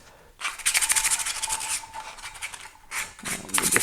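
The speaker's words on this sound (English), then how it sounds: "let's just hit this a little bit, just enough to give it some scuff so paint will hold" Hand-scuffing a patch of an Oldsmobile 442 dual-quad intake manifold for paint prep gives a close, steady rasping rub in quick back-and-forth strokes, with a brief pause before the scraping resumes.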